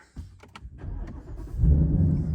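A Ford Mustang running an E85 tune is started: a brief crank leads into a deep, rumbling idle that swells louder, heard up close with no talking.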